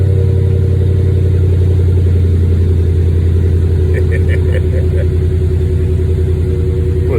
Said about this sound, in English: Beastie, fire all eight off.